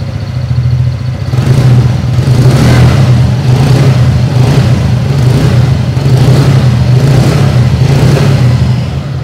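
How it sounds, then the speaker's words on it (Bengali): A TVS NTorq 125 scooter engine idles with a steady, loud, low hum and a faint regular pulse that holds evenly from start to finish. "এখন আপনারা এটার ইঞ্জিনের আইডল কন্ডিশনের সাউন্ডটা"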